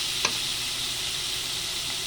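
Sliced hotdog being stirred in a pot for a soup, with a soft continuous sizzle of frying and one brief scrape of the utensil early on, close and moderately quiet.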